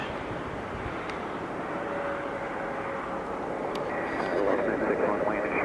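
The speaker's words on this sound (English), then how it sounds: "American Eagle 5171 CRJ 900 landing from Washington National on the crossing runway" An American Eagle CRJ 900 regional jet landing on a crossing runway at Philadelphia airport, a broad, steady engine roar at a distance that swells slightly near the end, with faint voices.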